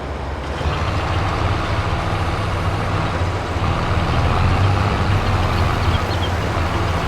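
A tractor reversing to hitch up a stone picker in Farming Simulator 22, its engine idling with a steady low diesel rumble, close and constant with no pauses.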